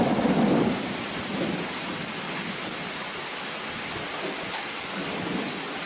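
Heavy rain pours steadily in a dense, hissing wash during a thunderstorm, with a low rumble of thunder at the start and faint rolling swells later; no voices.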